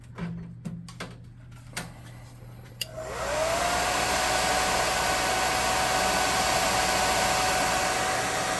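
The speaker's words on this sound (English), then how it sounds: "Then with the Plus 5 hot air gun burning, I'm just going to make sure all this paint is dry." A few sharp clicks, then a hot air gun switches on and blows a steady, loud whooshing roar with a faint rising whine, drying paint on a tabletop miniature.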